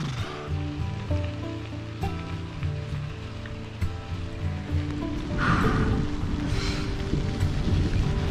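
Steady rain falls on a muddy dirt road during a bikepacking trip on the Colorado Trail, a dense close hiss that swells louder in the second half with no talking.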